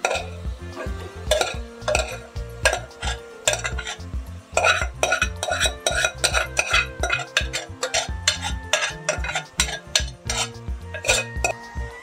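Cooked rice being stirred and mixed with jaggery, grated coconut and ghee in a metal pan for narali bhat: repeated close scrapes and metallic clinks of spoon against pan in an irregular rhythm, with no speech.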